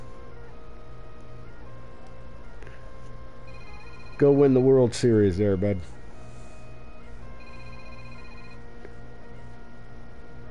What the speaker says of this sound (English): there's a phone call of a number that's not coming up on my thingy, so I don't answer it